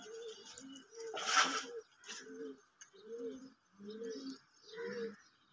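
Pigeons, a flock of tournament flying birds, give a series of soft, low cooing calls in regular rounded bursts, fairly quiet and close, with no talking over them.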